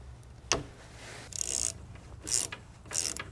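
A 6mm Allen key breaking loose the coolant bleeder on a 2004-2009 Toyota Prius, giving a sharp metallic crack followed by several short ratcheting clicks and scrapes, close up with no talking.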